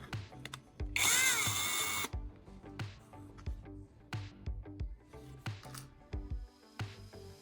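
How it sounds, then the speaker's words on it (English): A power drill whines loudly for about a second, drilling small holes in a metal tuna can, then a string of sharp taps and clunks follows at a steady pace, close by. "These marks are where I'll drill small holes."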